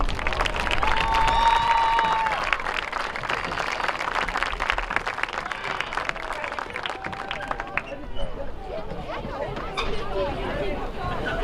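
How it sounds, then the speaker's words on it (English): Crowd at a high school football game applauding the fall seniors, a sustained wash of clapping and cheering mixed with chatter and crowd babble, with a brief whistle-like tone early on. "And one more round of applause for your fall seniors."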